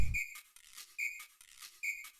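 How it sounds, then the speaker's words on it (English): Corny whistle sample in a music production track: short bright whistled tones repeating in a regular pattern, a brief low thump at the start, no voices. "So yeah, we got a corny ass whistle."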